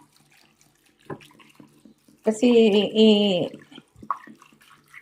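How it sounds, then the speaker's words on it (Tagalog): Water pouring from a tap into a pot of pork ribs for boiling, a loud splashing rush of about a second, with a person talking quietly before and after. "Ayan, nilagyan natin ng tubig guys. At dagdagan pa natin."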